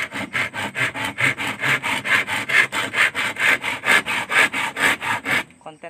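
A hand saw cuts wood in steady back-and-forth strokes, about three per second, rasping loudly and evenly before stopping abruptly at the end.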